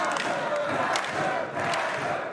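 Crowd at a live Chaotic Wrestling show in Boston roars loudly and steadily, with swelling yells and cheers filling the arena after a springboard move and a near-fall.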